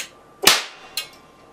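A light bulb pops as a capacitor bank discharges through it: one sharp, loud crack followed by a fainter second snap about half a second later, with quiet before and after.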